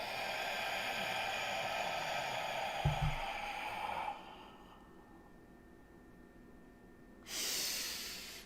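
Breathing out through the nose makes a long, steady airy hiss that fades after several seconds, with a short sharp snort partway through and a fresh burst of breath near the end.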